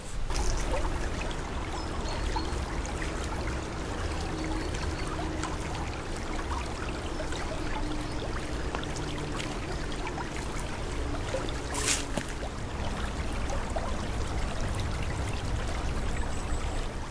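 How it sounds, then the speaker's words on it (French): A stream runs steadily beside an old family home, its water flowing and gurgling continuously at close range with a broad, even wash and no voices. "Alors ceci est le ruisseau."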